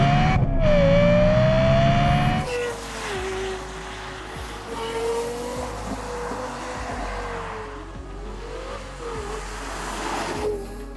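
Engine of a Lexus LFA supercar, a naturally aspirated Toyota/Yamaha V10 in a carbon body, revving loudly up through the gears with a sweeping rising pitch, then holding a steady high-rpm drone with brief shifts, close and without talk.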